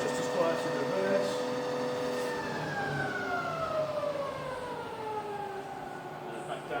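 A rebuilt Bridgeport milling machine's spindle runs in reverse, with a smooth, fairly quiet whine of tones that glide downward as it slows, while someone talks over it.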